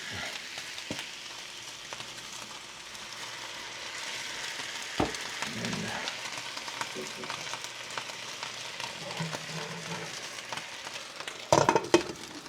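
Corned beef and cabbage fry with added broth in a pan, giving a steady close sizzle throughout, with a few utensil clinks and a louder stir near the end.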